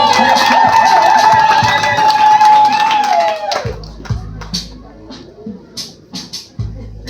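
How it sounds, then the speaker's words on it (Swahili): At a cake-cutting party, music plays under voices, then a crowd breaks into scattered bursts of applause in the second half, with people talking over it. "Wapi makofi jamani?"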